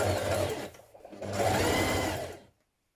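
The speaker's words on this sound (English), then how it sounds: "we're just going to stay stitch around this raw edge just to keep everything in place" A sewing machine stay stitches around the raw edge of a sweatshirt's fabric, two close, steady whirring runs of rapid needle strokes that stop abruptly.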